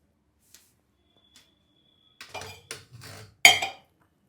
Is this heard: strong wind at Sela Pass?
no